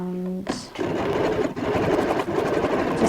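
A sewing machine stitches around the corner of a mitered handle on a magazine-print handbag, running steadily and close for about three seconds after a brief start.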